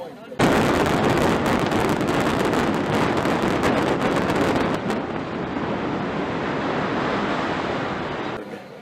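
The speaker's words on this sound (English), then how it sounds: "Now I know what a building collapsing sounds like." Surfside condo building collapsing, a sustained, very loud roaring rumble that starts abruptly and carries on for several seconds with crackling debris, fading slightly toward the end.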